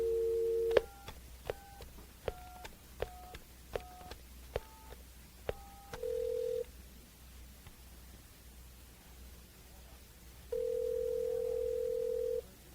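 A phone call is placed: a short burst of quick dial tones, a steady tone, then a busy signal cycling on and off, clear and close with no voices.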